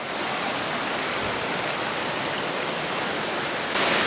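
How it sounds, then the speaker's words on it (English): Steady rain falls outdoors near a waterfall, a dense, even hiss of water with no pauses, close and constant for the whole stretch. "It's raining now."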